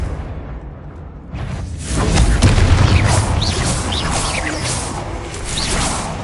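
A Confringo explosive spell in the Hogwarts Legacy video game, heard as a whoosh followed by a loud booming blast whose crackling rumble lingers and swells again before fading.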